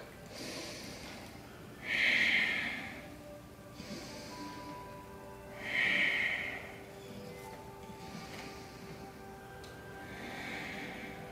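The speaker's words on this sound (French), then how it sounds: "3 respirations profondes dans notre posture de l'huître." Deep breathing during a family yoga session in oyster pose, with slow, airy breaths rising and falling at a calm, even pace, close and moderately soft, with no talk.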